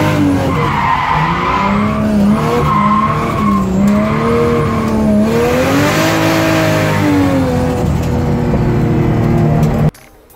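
A drifting car skids with loud, sustained tire squeal and wavering screech over a roaring engine, continuous and close before cutting off abruptly at the end.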